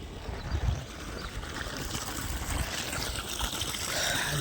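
Water gushes from opened irrigation pipes watering camel fodder grass outdoors, a continuous loud rushing and splashing flow with no pauses.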